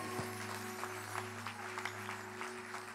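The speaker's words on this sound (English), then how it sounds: "Let's just clap for Jesus one more time." A church congregation at a Sunday service claps together for Jesus, a fairly faint, even wash of applause over a steady low hum from the room or sound system.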